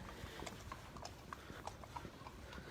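Several horses walk along a path at an equestrian centre, their hooves clip-clopping in a steady, uneven rhythm at moderate distance with no talk.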